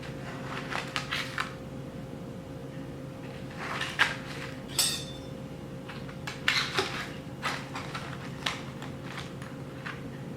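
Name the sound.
knife slicing a no-bake cherry pie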